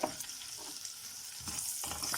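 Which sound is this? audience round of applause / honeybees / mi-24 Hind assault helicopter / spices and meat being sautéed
spices and meat being sautéed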